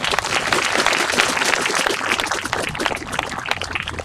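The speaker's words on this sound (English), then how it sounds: "Please give them all a round of applause." A crowd at an outdoor groundbreaking ceremony for a World War II memorial applauds, loud dense clapping that stays strong throughout, close and busy with no talk over it.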